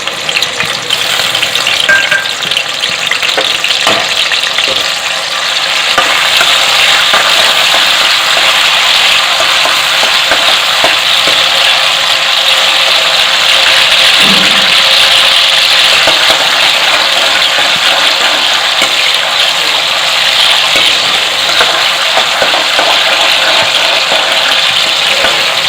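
Tomatoes fry in a hot kadai with a loud, steady sizzle while a spoon stirs and scrapes, adding intermittent clacks and scraping close up. No one speaks.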